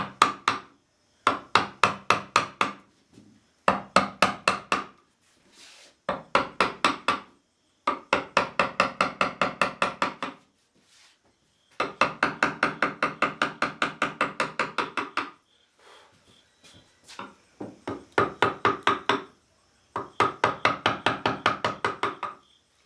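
A mallet strikes a chisel while wooden chair leg tenons are trimmed, giving bursts of rapid, sharp knocks separated by short pauses, close and clear with no talking.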